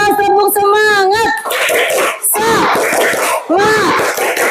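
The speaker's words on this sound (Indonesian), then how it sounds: "Makin keras tepuk semangat." First-grade schoolchildren in a classroom do a rhythmic spirit clap, bursts of patterned clapping in short groups mixed with their loud chanting voices, close and lively.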